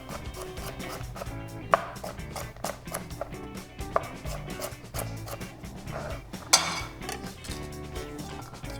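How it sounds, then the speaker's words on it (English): A knife cutting cherry tomatoes in half on a cutting board, giving repeated soft chops and taps at an uneven rhythm, close and fairly quiet, with an occasional sharper knock. "Now I'm just cutting these little cherry tomatoes in half."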